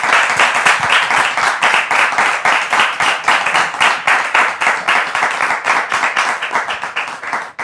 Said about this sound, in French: Je voudrais entendre les applaudissements du public encore plus fort.